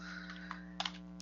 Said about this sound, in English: I'm just going to type it in here as an example.